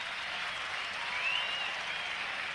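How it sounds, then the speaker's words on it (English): Steady cricket crowd applause rolling from the Sheridan stand at the Sydney Cricket Ground during a 1985 Australia versus West Indies match, a broad continuous wash of clapping that swells slightly midway, with no one speaking. "And applause from down that Sheridan stand in for Geoffrey Lawson."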